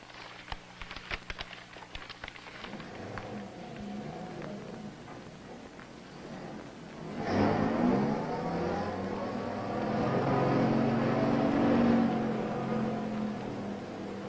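A big truck engine runs close by in a driveway, a low steady rumble swelling in loudly partway through and holding, with faint earlier sounds before it arrives.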